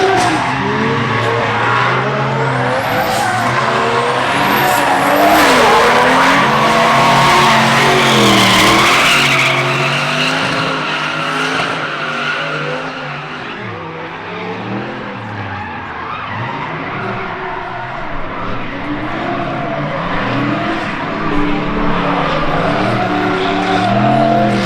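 Race cars lapping at a track day, with loud continuous engine roar, shifting revs and long squealing tire skids throughout, close and dominant with no pause.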